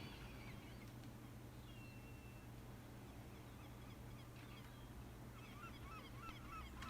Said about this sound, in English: these are the animated seagulls, look, they're flying about